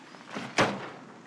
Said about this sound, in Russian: Так, закрой дверь.